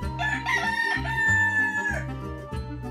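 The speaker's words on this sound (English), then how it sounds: "Rooster." A farm rooster crows loudly in one long, drawn-out cock-a-doodle-doo over a bed of steady background music.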